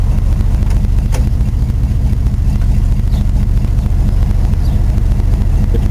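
A K10 truck heater blower fan pushes air out of the dash vents as a steady, loud low rushing roar that stays even throughout, close up with no talk.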